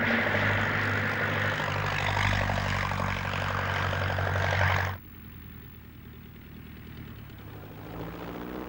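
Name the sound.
Jenny biplane propeller aircraft flying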